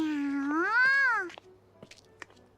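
A cat meows once in the video game You and Me and Her: A Love Story, a long, close, rising-then-falling call followed by a few soft clicks.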